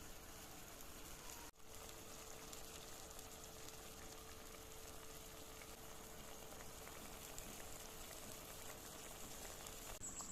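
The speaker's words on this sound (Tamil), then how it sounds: "புளி நல்லா கொதிக்கிட்டும்" Tamarind broth boils in a pot of fish curry, giving a soft, steady bubbling simmer that holds evenly throughout, faint and uninterrupted.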